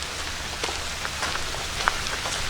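Steady rain patters on a hiking trail loop near a lake, a dense, even hiss of drops with a few brighter individual splashes, close and continuous with no talking.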